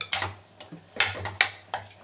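A spoon scrapes and clanks against a pot of peanut curry in repeated strokes, about five or six stirring motions over a faint background hum.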